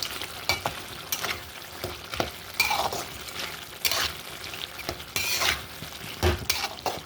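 Fried dried fish being stirred into tomatoes cooking in oil in a pan, with a steady sizzle and repeated scraping strokes of a spoon against the metal, close and fairly loud, no voices.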